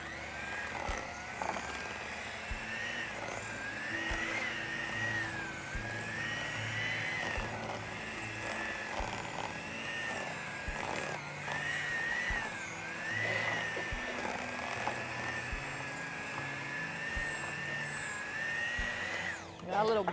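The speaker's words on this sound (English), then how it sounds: "the mixer's trying to get away from me right now" Electric mixer whipping a pistachio cream cheese filling, a continuous close whine with a slowly wavering pitch that runs for about twenty seconds, with occasional knocks and clatter beneath it.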